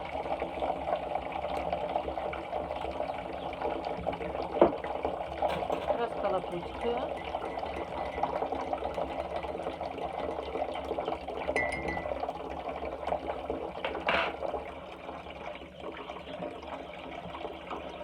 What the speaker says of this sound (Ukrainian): Набрала теплої води, набираю.